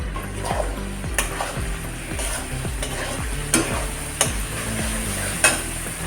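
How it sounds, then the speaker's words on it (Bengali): Coriander powder, garlic and ginger paste, salt and turmeric being sautéed for a Bengali jackfruit curry, with a steady sizzle under repeated scraping spatula strokes against the pan and a few sharper clinks, close and continuous. "ধনিয়ার গুঁড়ো রসুন বাটা আদা বাটা লবণ হলুদ সবগুলো দিয়ে এবার কষিয়ে নেবো ভালো করে"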